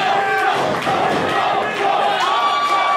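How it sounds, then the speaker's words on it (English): A wrestling event crowd cheers and roars steadily at full volume, a dense wall of voices with a few whistles and yells rising out of it. "The crowd loving that Dave Cole came out here to support Nocturne"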